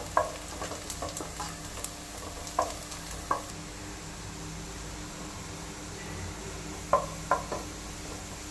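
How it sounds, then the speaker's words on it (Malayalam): Onions being sautéed on a high flame for chicken pulao sizzle steadily in the pan, with intermittent scrapes and stirring knocks rising above the constant frying hiss. "അതുവരേക്ക് നല്ലപോലെ വഴറ്റണം ഫ്ലെയിം കൂട്ടി വെച്ചിട്ട് വേണം"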